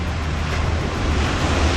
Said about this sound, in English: the waves are smaller and getting smaller all the time